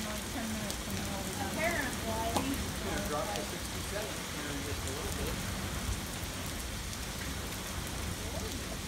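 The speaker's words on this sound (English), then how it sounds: "this monsoon rain, apparently." Heavy monsoon rain pouring steadily as a constant dense hiss, with faint voices talking beneath it.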